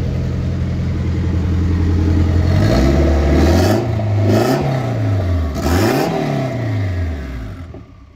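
Turbocharged Acura RSX K-series engine revving hard close by, its pitch climbing and falling in repeated loud sweeps over a steady idle drone before settling.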